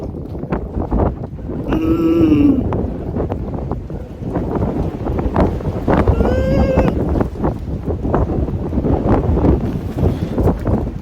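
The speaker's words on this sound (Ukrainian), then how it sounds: "це такий вітер" Strong wind carrying Saharan dust buffets the microphone in rough, continuous gusts, with a couple of brief high whines cutting through the roar.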